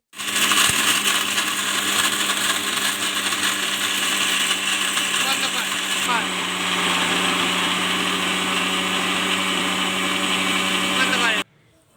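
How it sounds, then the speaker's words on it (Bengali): An electric mixer grinder running for about eleven seconds, a loud, steady high whine with a slight shift in tone midway, then cutting off abruptly. "তো দেখো, মিক্সারটা করেছি, মনে হচ্ছে আরেকটু করতে হবে"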